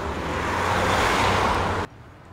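A car passes on a road. A broad roadway rush builds and holds and then cuts off abruptly, leaving quiet background noise. No one speaks.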